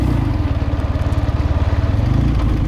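A 1973 Chang Jiang motorcycle rides along in third gear, its engine a steady, throbbing low thrum with an even rapid pulse, loud and close throughout.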